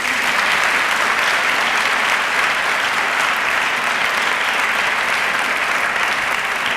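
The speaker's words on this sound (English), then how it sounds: "A round of applause for Collette." Sustained, even applause from a keynote audience honoring Collette Flanagan of Mothers Against Police Brutality, a dense wash of many hands clapping steadily throughout with no voices standing out.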